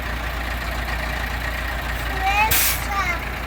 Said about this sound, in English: Cement truck? Well, kind of. It's hauling cement, yeah.